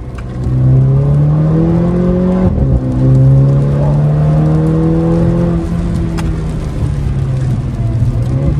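A Mercedes A250 accelerating hard, its engine note climbing loudly through the revs with a brief shift break, then continuing to pull strongly as a close, sustained drone.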